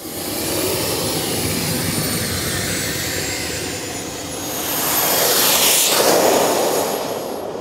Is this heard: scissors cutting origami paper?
no